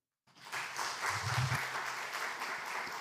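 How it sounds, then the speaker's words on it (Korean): An audience applauding at a book-launch thanksgiving service, clapping rising abruptly from silence into sustained, dense applause from a crowd that holds steady to the end. "우리 다시 한번 우리 세 분에게 축하와 격려의 박수 드립니다."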